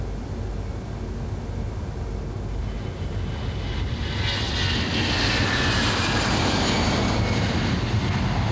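Airbus A320 jet engines spool up to takeoff thrust, a loud, steady roar heard from inside the aircraft that swells and brightens partway through and then holds.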